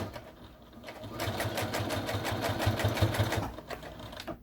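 A sewing machine back stitching over a fabric pocket, a fast, close mechanical rattle that starts after a quiet moment, runs steadily for a few seconds, then slows and stops.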